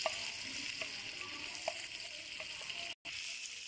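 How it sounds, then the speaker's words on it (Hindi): Two medium onions frying in hot oil for aloo baingan, a steady hiss of sizzling with faint intermittent ticks and pops, close and moderately quiet, no talk. "ऑयल गर्म हो चुका है, अब हम इसमें ऐड करेंगे प्याज।"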